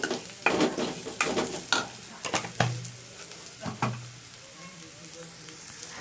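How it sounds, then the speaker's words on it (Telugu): Coriander powder frying in hot oil for a spicy village-style crab fry: a steady close sizzle runs throughout, broken by several sharp scraping stirs of a utensil against the pan in the first four seconds, then settling into softer sizzling. "ధనియాల పొడి కొంచెం ఇది కూడా ఆయిల్ ఫ్రై చేసుకుందాం"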